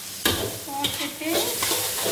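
Mee goreng noodles sizzle in a pan, close and steady, while a utensil stirs and scrapes through them in a few quick strokes.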